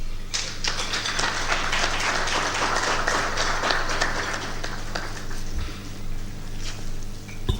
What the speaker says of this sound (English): Let's give another round of applause for our acting managing director.